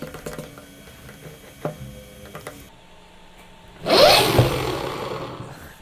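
A small DC motor, pull-started to spin at high RPM, whirs up in a sudden loud burst partway through after a quieter stretch of faint mechanical rattling, then keeps running with a steady buzzing whine.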